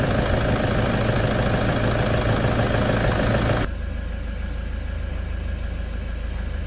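A car engine idles steadily with a broad, even rumble while an alternator that is not charging is tested and the battery warning light stays on; the sound drops to a quieter, duller hum partway through.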